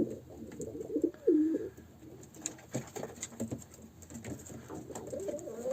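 Several pigeons coo softly nearby, low throaty calls repeating amid faint rustling and shuffling sounds.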